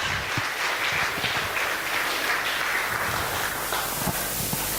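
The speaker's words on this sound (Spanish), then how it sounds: "denle un aplauso al Señor por todas las veces que no ha" Congregation applause for the Lord during a Spanish-language church sermon, a dense, steady wash of many hands clapping continuously throughout, fairly loud and even with no talking over it.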